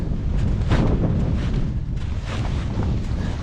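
Strong gusty wind buffets the microphone during a snowstorm at a wild camp, a loud, continuous roar with rising and falling gusts and no voices.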